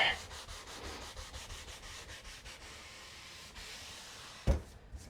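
Sandpaper rubs rhythmically across an old wooden window frame in quick repeated strokes, close and moderately loud, followed by a sharp knock near the end.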